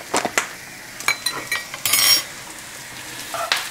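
Spices and granulated garlic frying in a nearly dry pan, heard as short bursts of sizzle and a few scraping stirs and clinks of a utensil against the pan, close and fairly loud, with no talking.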